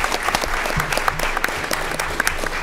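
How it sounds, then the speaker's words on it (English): Audience at a school board candidate forum giving a round of applause, loud and close, with individual claps standing out from the steady crowd clapping throughout. "Let's give them all a round of applause."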